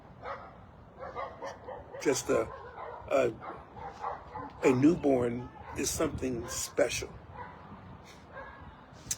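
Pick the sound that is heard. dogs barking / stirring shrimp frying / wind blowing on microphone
dogs barking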